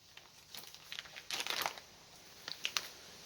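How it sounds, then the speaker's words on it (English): A plastic bag crinkles and rustles in short irregular bursts as it is handled and zipped shut, close and fairly quiet, with a denser flurry near the middle and a few sharp crackles at the end. "put it in the plastic and zipper it shut"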